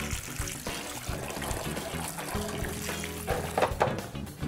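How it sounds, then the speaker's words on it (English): Water poured onto soaked cowpea beans being dehulled, a continuous splashing trickle that is moderately loud and steady throughout with no talk. "After, you add some water."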